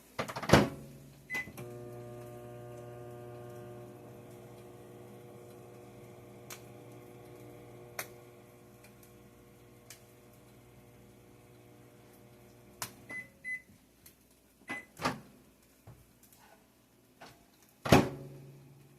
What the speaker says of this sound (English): We're going to warm it up in the microwave 15 seconds.